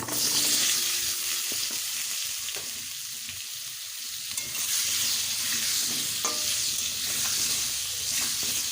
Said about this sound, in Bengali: এবার পটলগুলো ভেজে নেব ওই তেলেই একটু দিয়ে দিচ্ছি হলুদ এবার দিয়ে দেবো পটলগুলো